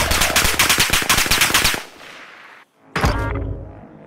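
Automatic gunfire in the Call of Duty: Modern Warfare video game: a loud, rapid machine-gun burst for nearly two seconds, a short lull, then another sharp shot with a ringing tail.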